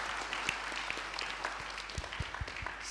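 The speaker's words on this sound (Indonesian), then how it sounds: "Tepuk tangan dulu untuk Bapak Abdul Jabbar." Audience at a presidential-candidate audition event breaks into applause, a steady wash of clapping with a few sharper claps standing out, fairly faint and without talk.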